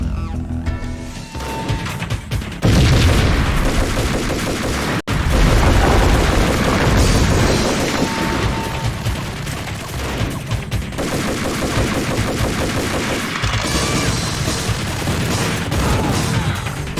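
Heavy gunfire from the Max Payne video game plays as a loud, nearly continuous barrage of shots, bursts and crashing impacts, with a brief sharp drop about a third of the way in before the firing resumes at full intensity.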